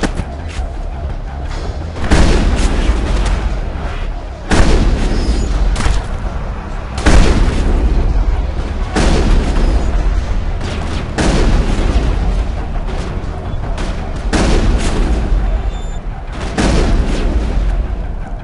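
Gunfire in the Mass Effect video game: loud repeated booming shots and thuds arrive every couple of seconds, each followed by a rumbling tail, over continuous dense combat noise.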